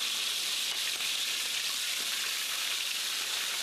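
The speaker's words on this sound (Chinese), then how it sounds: "油炸苦花热力全开，" Kuhua fish deep-frying in oil over a wood fire in an outdoor mobile kitchen, giving a steady, dense hiss and crackle that runs throughout at moderate level with no speech.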